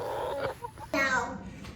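Backyard hens clucking and chattering close by, with a burst of several overlapping clucks and squawks after a brief lull, while a person calls to them.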